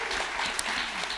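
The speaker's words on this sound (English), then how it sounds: "So big applause to the people who made this possible" Audience applause for a festival's organizing team at the opening of a digital freedom festival, a steady dense patter of many hands held at moderate level through the brief moment.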